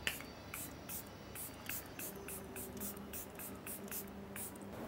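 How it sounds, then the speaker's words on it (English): A makeup fixing spray gives about a dozen quick, soft misting spritzes in a steady rhythm, close and fairly quiet, over a faint hum. "We are using a makeup fixing spray to set everything in"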